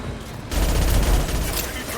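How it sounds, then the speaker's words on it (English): Dense Mass Effect video-game gunfire erupts suddenly after a brief quieter moment, continuing as loud, rapid overlapping shots and rumbling blasts through to the end. "Who the fuck is he shooting at?"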